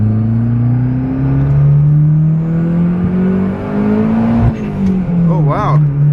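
A Mitsubishi Eclipse 2G engine runs close by, holding a steady idle drone, then revving briefly with rising and falling pitch near the end, while people talk over it.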